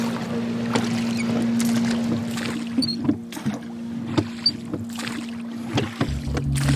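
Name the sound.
rowing a boat in a sailing video game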